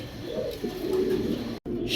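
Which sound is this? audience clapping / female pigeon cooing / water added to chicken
female pigeon cooing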